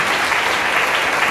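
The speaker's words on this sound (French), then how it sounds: "Applaudissez pour lui." Brief burst of applause from a church congregation, steady and dense clapping from many hands, loud and close throughout with no pauses.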